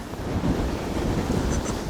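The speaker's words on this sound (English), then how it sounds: "Dang you, wind, stop it." Strong wind gusting across an open frozen lake during ice fishing for arctic grayling in Colorado, a steady loud roar buffeting the microphone for the whole stretch.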